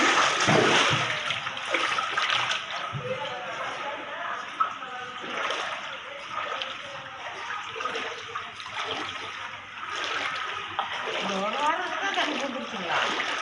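Heavy rain pours down in Rasipuram as a dense, steady rush of splashing water, loud and unbroken, with voices faintly underneath.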